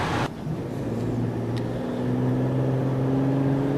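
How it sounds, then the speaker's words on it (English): A 2007 VW Touareg on the road, its engine droning steadily with a low hum that rises slightly as a gear change comes through, close and continuous with no talk. "the car shifts nicely and gives a good amount of sound and engine feel"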